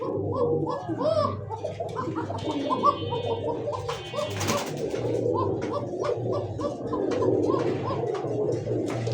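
Pet pigeons of fancy breeds, such as Lahori, Bombay, satin and Giribaz, coo close by in repeated soft, throaty rolls that overlap steadily, with occasional wing flutters and brief chirps around them.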